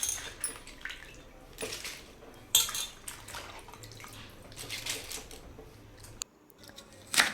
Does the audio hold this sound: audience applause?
no